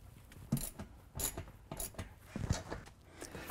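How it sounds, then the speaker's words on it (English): T50 Torx driver working the rear seat bracket screws on a Land Rover LR3, heard as quiet, close ratcheting clicks and metallic taps in short, irregular bursts. "We're going to take the T50 Torx and remove the 2 front screws."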